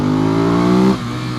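A 2014 Ducati Monster 821 motorcycle engine revs hard under a sharp throttle opening, its tone climbing steadily for about a second before dropping off as the throttle closes, loud and close with riding wind underneath.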